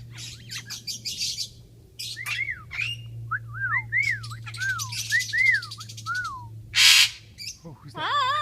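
A pet bird whistles and chirps close by in a run of rising and falling whistled notes with sharp tweets, over a steady low hum and occasional faint voices.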